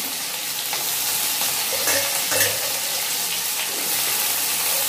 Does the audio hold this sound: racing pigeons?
no